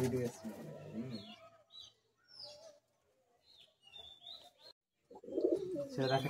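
Madrasi pigeons coo and chirp in short scattered bursts up close, with quiet gaps between and a voice talking at the start and end.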